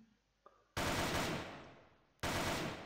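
Two loud bursts of gunfire in a competitive first-person shooter match, each starting abruptly and then trailing off, with a faint click beforehand and no talk.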